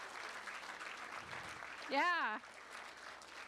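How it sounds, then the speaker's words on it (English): Conference audience applause after a closing session talk, a soft continuous clatter of many hands heard at a distance. A single voice briefly speaks over it partway through. "Let's give John a big round of applause."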